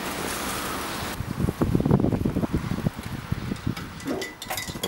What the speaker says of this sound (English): Really rainy, really windy, and we don't think our gazebo will stay up